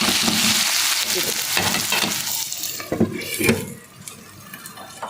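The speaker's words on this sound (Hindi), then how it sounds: "अपनी पालक को तड़का लगा देंगे" Hot oil tempering crackles and sizzles steadily as it hits spinach and potato in a pan, loud at first and easing toward the end, with a few clatters.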